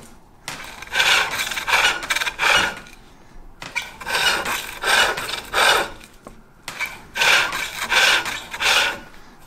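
Skew chisel tip cutting a small channel into wood spinning on a lathe, heard as three long rasping, scraping bursts of several strokes each, with short pauses between them; close and fairly loud, no talking.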